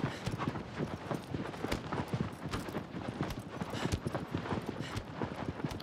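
Horse hooves galloping at a steady run in the video game Shadow of the Colossus on PS5, a rapid, continuous clip-clop rhythm close and loud, alone without talk.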